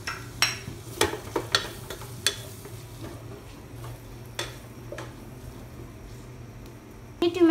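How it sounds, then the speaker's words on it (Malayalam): Ground spices get stirred into chicken kabsa in a pan, with a series of light spoon clinks and scrapes over a steady low hum, spaced irregularly and fairly quiet, ending with a louder rattle. "ഇനി ഇത് മിക്സ് ചെയ്ത് കൊടുക്കാം"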